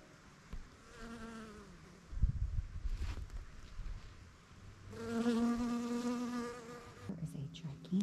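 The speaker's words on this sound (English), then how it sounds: "look at how the bees love the basil" Bees buzz steadily at close range around flowering basil, a harmonic drone that swells louder midway, with a rustling thump and brief low noises in between.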